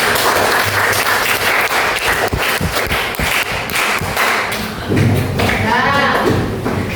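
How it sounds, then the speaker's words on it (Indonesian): Students in a classroom clap for groups returning to their seats, loud uneven clapping with sharp individual claps and thumps, mixed with voices and chatter near the end. "tepuk tangan dulu"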